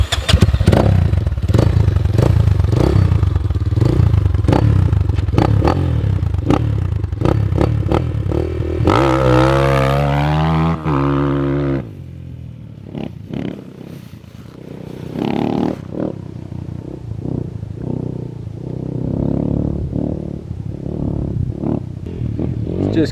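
A Moto Pro RF250 farm dirt bike is kicked into life and ridden, its single-cylinder engine revving loudly with rising pitch sweeps, then settling into a quieter idle and passing putter with some clatter.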